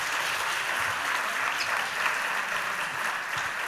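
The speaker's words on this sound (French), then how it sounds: "On peut l'applaudir" Audience at an award ceremony applauding a winner, a continuous even wash of clapping from a full hall, moderately loud with no voices on top.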